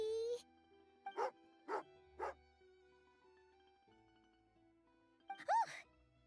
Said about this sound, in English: angry doggy.